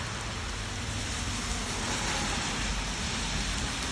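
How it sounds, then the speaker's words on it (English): A heavy, steady rain pours down outdoors in a dense, even hiss that never lets up, loud and close with no voices. "See, that's rain."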